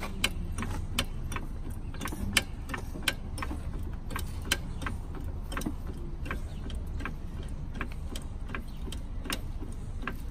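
Steady rapid clicking of a ratcheting jack being pumped to raise a Dodge Charger R/T, repeating evenly over a low background rumble, close by.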